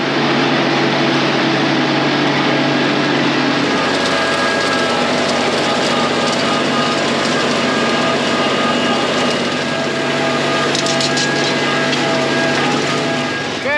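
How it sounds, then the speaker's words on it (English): A tractor pulling a windrower to rake straw into rows in a harvested field gives a steady, continuous engine drone with a broad mechanical rumble, unbroken and fairly loud throughout. "we're going to come through with the windrower to rake it up so that it's in a row that the baler can accept"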